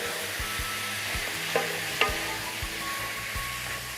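Minced pork for chilli con carne sizzles in a pan with a soft steady fry, while a spoon scrapes and stirs in a slow rhythm of low knocks and a couple of sharper clicks, close up with no voices.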